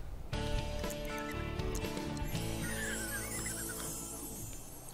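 A horse in The Sims 3 neighs with a clear whinny, while hoof clip-clop and steady game background sounds play throughout.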